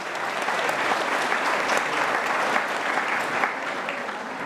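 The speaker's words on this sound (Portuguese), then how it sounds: "recebam com uma salva de palmas, Antonino Germanon" An audience at a workplace safety committee meeting in Caxias do Sul gives a guest speaker a steady round of applause, dense and even from start to finish with no voices over it.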